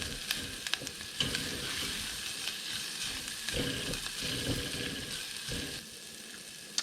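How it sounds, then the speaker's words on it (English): Swiss chard sweating with a pinch of salt in a pan, with a soft, steady sizzle and frying crackle, broken by a few stirring scrapes, quiet and close, no talking. "Just that will kind of help break up that Swiss chard, let it sweat."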